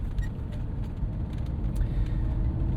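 A 1986 Mercedes-Benz 420 SEL W126 with a four-speed automatic driving down a street, heard as a steady low engine and road rumble from inside the car, continuous and fairly loud.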